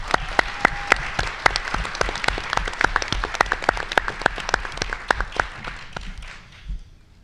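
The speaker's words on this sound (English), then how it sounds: "Let's give a big round of applause for our contestants" Audience clapping for contestants, hosts and sponsors at a Texas quiz show championship, a lively burst of distinct sharp claps from a modest crowd that thins out and fades near the end.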